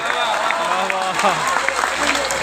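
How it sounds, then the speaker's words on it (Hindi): An audience at an All India Mushaira poetry gathering in Dhaka, Bihar claps in a short, lively burst of applause, mixed with voices and cheers from the crowd. "वाह वाह करेंगे जो तालियां बजाएंगे"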